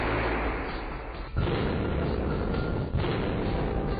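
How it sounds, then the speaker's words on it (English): Arc blast explosions go off during an electrical safety testing demonstration, two sharp booms about a second and a half apart, each followed by rumbling noise. "to witness arc flash and arc blast demonstrations. From explosions like this one"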